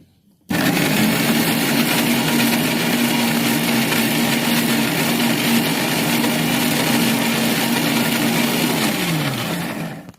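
An electric mixer grinder grinds soaked urad dal with a little of its soaking water for idli batter, a loud steady whir that starts abruptly, holds for about nine seconds, then winds down as the motor slows.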